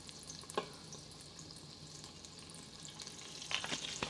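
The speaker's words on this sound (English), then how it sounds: "So I am adding 1/4 cup of butter, unsalted butter, 2 tablespoons of olive oil." Unsalted butter and olive oil sizzle and fry in a hot pot, a steady, fairly quiet crackle with a few small pops and clinks, heard close up without talk.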